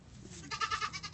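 A young buckling goat kid gives a short, wavering bleat, fairly close and moderately loud, rising out of quiet background noise.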